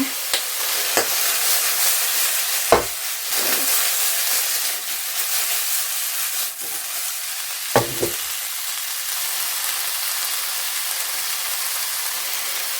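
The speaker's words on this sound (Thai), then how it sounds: "เราก็จะลวนประมาณนี้นะคะ พอเหลืองๆ นิดๆแบบนี้จ้า" Bamboo shoots stir-fry in a pan with a steady bright sizzle, and the clatter of a utensil scraping and tossing the pieces breaks through now and then.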